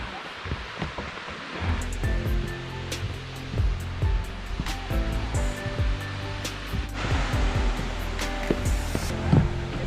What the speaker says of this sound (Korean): 여기가 용현 폭포입니다